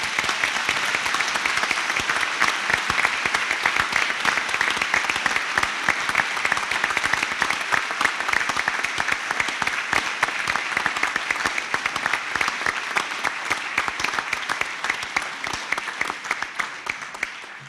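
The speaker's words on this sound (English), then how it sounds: "give them a fantastic round of applause" A graduation-ceremony hall audience claps in sustained, dense applause that holds steady for the whole stretch, loud and close with no voices rising above it.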